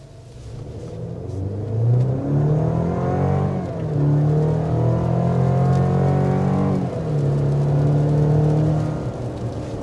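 A 2023 GMC Canyon AT4X pickup drives on a street, its engine revving up through gears in rising whines, easing off, then climbing again, loud and close inside the cab.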